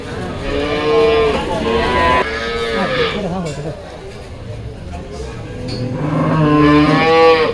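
Dairy cows low at a busy cattle market, several loud, drawn-out moos close by at the start and end, with people talking between them.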